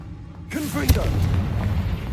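Confringo explosive spell in Hogwarts Legacy: after brief quiet, a whooshing cast leads into a sharp booming blast, followed by sustained rumbling, with a voice briefly heard over the action.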